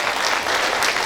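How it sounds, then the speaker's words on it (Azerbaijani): A short burst of dense, close applause from an audience greeting a guest called up on stage. "Bir alqışlar gəlsin."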